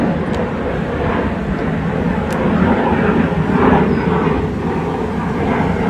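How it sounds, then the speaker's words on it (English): Airplane passing overhead near a marina with yachts in Pointe-Claire, Quebec, a steady distant broadband roar swelling slightly in the middle, heard alone without talk. "you hear the sound of airplane"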